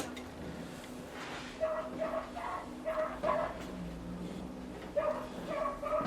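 A dog left alone at a house near a heath barks and yips in short irregular bursts at moderate distance, over a steady background hum.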